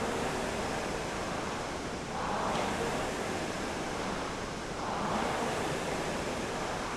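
A Concept2 rowing machine rowed at light paddle pressure gives a steady airy whoosh from its flywheel, swelling with each stroke about every three seconds, with no talking.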